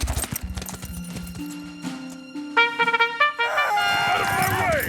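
Soldiers' horses galloping off in a Zorro animated series, a rapid clip-clop of hooves with a whinny, rising out of a musical fanfare and staying loud and close.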